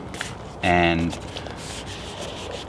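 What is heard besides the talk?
wet sanding a surface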